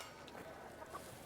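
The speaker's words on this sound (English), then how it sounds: "A bell tolls and chickens roam the dirt paths, weaving between the homes" Chickens cluck faintly in a small, peaceful farming village in the game Warsim, where a bell tolls nearby. Soft, scattered clucks sit low under a quiet ambient bed.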